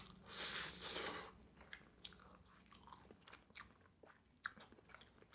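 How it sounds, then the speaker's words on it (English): Close chewing and biting on Indomie Goreng fried noodles, a loud burst of bites at the start followed by scattered soft smacks, squishes and crunchy clicks with no talking. "I love eating noodles with big bites."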